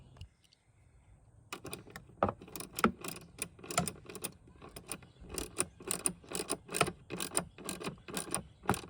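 A socket wrench ratchets steadily while tightening bolts under the hood of a Chevy Volt, its rapid clicking bursts coming close and loud after a quiet start, with no talk over it.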